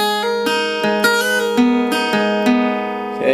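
Clean guitar notes ring out in a short repeating pattern, with quick hammer-ons and pull-offs blending smoothly between plucks, close and clear.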